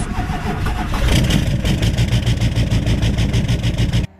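A 6.6 Duramax diesel pickup engine cranks over and catches, then runs with a loud, steady rumbling clatter for a few seconds before cutting off abruptly.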